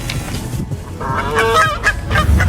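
Loud goose-like honking from birds harassing a herd of cows, nearby and repeated over a steady outdoor rumble.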